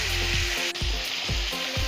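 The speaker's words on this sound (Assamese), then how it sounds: "এতিয়া অকণমান ভাজি ল'ব লাগিব মই।" Mutton frying in a karahi with turmeric, a loud steady sizzle with a few soft stirring scrapes and no talk.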